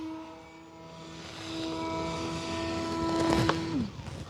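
A Husky Ultimate RC model airplane with a 1.8 m span flies overhead, its propeller engine droning steadily and growing louder, then dropping sharply in pitch near the end as the throttle is cut.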